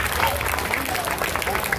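An audience at a government school in Shamnur claps together in a dense, even wash of applause, with voices audible over it.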